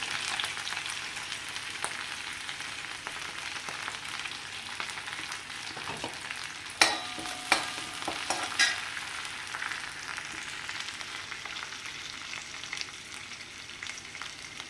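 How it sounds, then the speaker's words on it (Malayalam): Garlic, green chilli and curry leaves fry in hot coconut oil with a steady, broad sizzle that runs throughout, broken by a few sharper crackles and stirring clatters near the middle; no one speaks. "വെളിച്ചെണ്ണ ചൂടായി അതിലേക്ക് വെളുത്തുള്ളി ചെറുതാക്കി അരിഞ്ഞത്, പിന്നെ പച്ചമുളക്, കറിവേപ്പില ഇട്ട് കൊടുത്തു"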